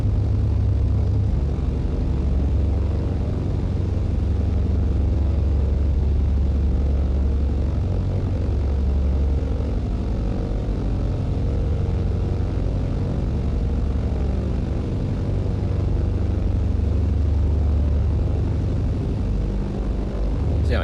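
A propeller aircraft in Microsoft Flight Simulator 2020 drones steadily with a loud, continuous low engine roar for the full stretch of the takeoff run, holding an even level without pause.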